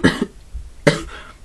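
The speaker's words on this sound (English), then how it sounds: "I'm suffering from a cough" A person coughs twice, close and loud. A sharp first cough is followed by a second one after a short pause, with no talk around them.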